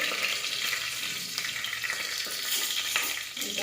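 A bay leaf sizzles in hot oil while making hotel-style masala rice, a steady close crackle and hiss with occasional faint stirring.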